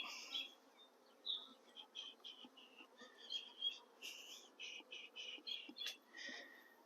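Soft, steady buzzing of many bees, faint and close, with individual wingbeats flickering in and out of a continuous hum.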